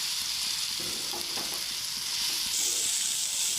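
Soya chunks frying in hot oil in a home kitchen, a continuous bright sizzle with brief stirring scrapes near the middle, close and fairly quiet, no talking.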